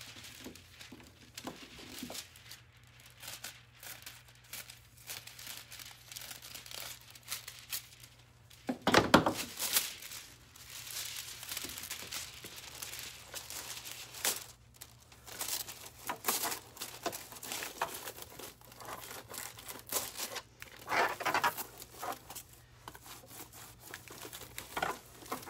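Aluminium foil being handled and crinkled for a hearts-and-roses craft pattern, a quiet, continuous scatter of soft crackles and rustles with one louder crumple partway through, close by and without talk.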